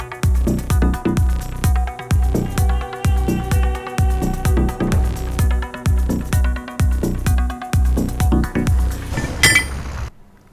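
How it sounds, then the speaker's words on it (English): A plough in a farming video game losing its land wheel, heard as a steady series of loud metallic clanks and clinks in regular rhythm, ending in a brief rattling clatter. "it was basically the land wheel falling off the plough"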